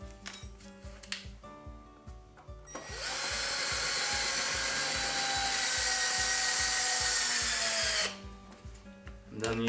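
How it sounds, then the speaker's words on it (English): A power drill screws metal studs into the holes of an ice racing tire, with short bursts of motor whine and clicks before a steady, loud, high-pitched run of several seconds that cuts off, followed by more clicking. "Go to your holes in the tire and enter the right hole and screw it through."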